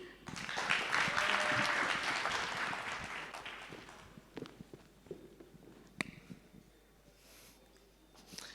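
Applause from a summit audience greets a startup speaker, a dense burst that swells quickly and then fades over several seconds into scattered claps, footsteps and room noise.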